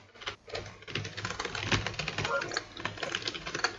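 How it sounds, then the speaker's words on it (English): Rapid typing on a computer keyboard, the keys clattering steadily and close for several seconds beneath a voice. "I just want to type here"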